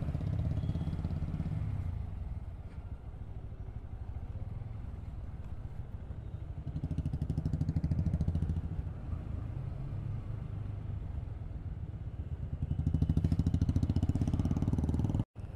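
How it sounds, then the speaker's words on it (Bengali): Busy road with many cars and motorcycles passing, a continuous loud rumble of engines that swells and eases as vehicles go by, heard close from the roadside. "বাপরে কত গাড়ি বেরিয়েছে আজকে।"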